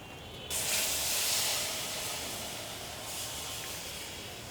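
Tamarind pulp poured into hot oil with five-spice (panch phoron) for a sweet-sour olive pickle: a sudden loud hiss bursts up and holds as a steady, gradually easing sizzle, close and alone.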